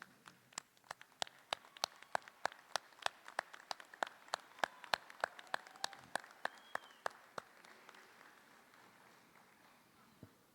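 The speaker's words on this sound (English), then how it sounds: "let's give them a hand of applause" Graduates at a university commencement ceremony clap for their friends and family, a steady run of distinct, evenly spaced claps that sound fairly close and thin out and fade near the end.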